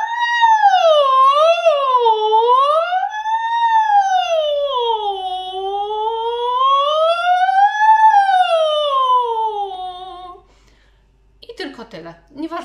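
A singer imitates an alarm siren as a vocal warm-up, a smooth sustained voice sliding up and down in pitch for about ten seconds, loud and close, followed by brief speech.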